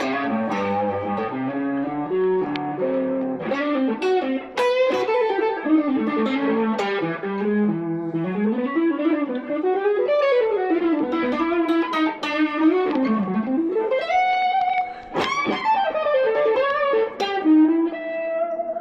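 Electric guitar played through effects with light distortion, single-note lines moving over I–IV–V chord changes and targeting chord tones; a steady, continuous, close performance with no talking.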